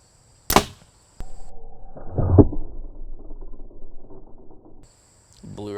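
An arrow tipped with a G5 Montec fixed-blade broadhead strikes and punches through a sheet of plywood with one sharp, loud crack near the start, followed by rattling and a low mechanical rumble as it settles.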